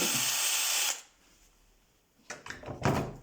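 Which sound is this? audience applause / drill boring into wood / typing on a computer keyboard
drill boring into wood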